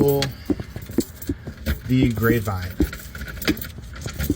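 A set of keys jangles in irregular metallic bursts as it is handled close up. A person talks intermittently over the rattling.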